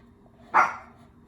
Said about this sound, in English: apparently my dog doesn't like that